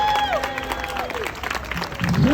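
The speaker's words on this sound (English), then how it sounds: "please give all of our seniors a huge round of applause" A crowd claps steadily for graduating seniors of the Class of 2023 at a bell-ringing ceremony, the applause filling the whole moment alongside murmured voices and a few ringing tones.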